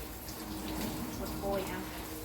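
Flowers are watered in a home garden, with a steady soft rush of running water and a faint voice in the background.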